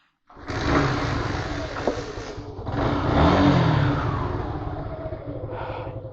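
A Suzuki motorcycle whose electric self-start is failing catches after a kick start and revs loudly for several seconds, rising and falling, with no voices.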